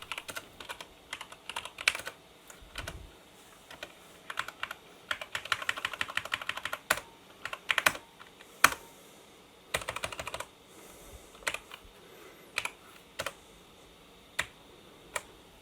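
Someone types on the keyboard of a 486 PC during a keyboard test: close, crisp clicking keystrokes come in irregular bursts and single presses, fairly quiet, with no talking.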